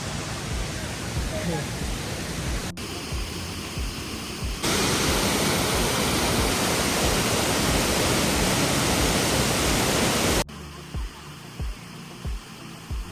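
Steady, dense roar of a waterfall close by in Coorg during the monsoon, swelling louder in the middle and settling back to a slightly quieter rush.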